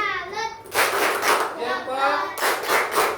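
Students clap for a classmate in an Indonesian classroom, a burst of quick, close handclaps in uneven rhythm that comes in short waves. A voice is heard just before the clapping starts.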